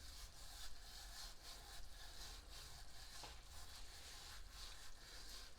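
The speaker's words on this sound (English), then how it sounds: "Just rub the hands, and there we go. It breaks down the fenugreek." Dried fenugreek leaves (methi) being rubbed and crushed between two palms, a soft rhythmic scratchy rasping repeated in quick strokes, close and faint, with no voices.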